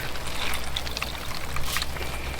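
Fireweed and wild chamomile steeped in tea are wrung out by hand, letting liquid pour and trickle close up in a short splashing stream, with small drips toward the end and no talking.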